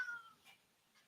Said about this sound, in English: This cat's driving me crazy now.